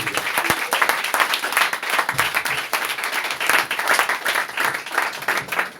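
A church congregation applauding in dense, continuous clapping that holds steady and loud for several seconds, with no voices rising above it.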